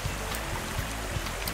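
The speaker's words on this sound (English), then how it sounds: "It's just three little stones around there with the water running over them." A small stream runs over a few little stones, a steady close trickle and burble of water heard alone.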